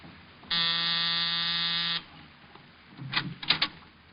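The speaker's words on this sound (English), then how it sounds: "I was punching the buzzer" A single harsh electric apartment door buzzer sounds steadily for about a second and a half, then stops; a few faint knocks or shuffles follow.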